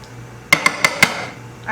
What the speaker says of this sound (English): now I'm going to get my frying pan